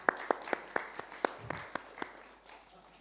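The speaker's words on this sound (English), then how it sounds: "let's have a round of applause for our techies at the back tonight" A sparse handful of claps from an audience at an evening outreach talk, about a dozen sharp hand claps spaced out and fading over three seconds, fairly faint in a hall with no one speaking.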